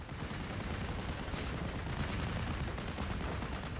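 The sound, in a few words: AVRE tank firing at a half-track in a video game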